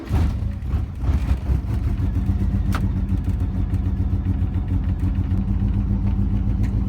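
A car engine idles steadily with a newly installed free muffler, a continuous low rumble with a slight rev near the start, close and without talk.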